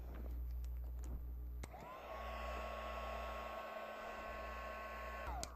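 A heat gun blows steadily for several seconds to heat-set paint on a decorative gourd, a smooth loud whooshing drone that switches on with a click and holds constant until it cuts off near the end.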